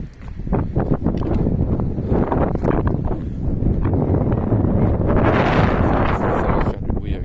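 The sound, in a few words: wind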